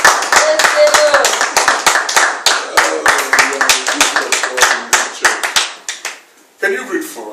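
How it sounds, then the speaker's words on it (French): A church congregation in Aalst, Belgium claps for a sister, a steady run of sharp, close handclaps that fades out before other voices briefly sound near the end. "Can you give a big hand for our sister?"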